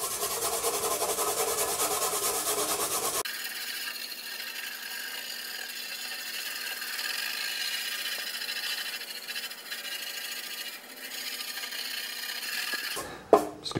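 A wire brush scrubs across a metal Track & Field arcade control panel in steady, close, rasping strokes, with a brief louder scrape near the end and no speech.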